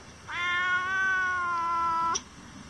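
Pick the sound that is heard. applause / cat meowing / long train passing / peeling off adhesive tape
cat meowing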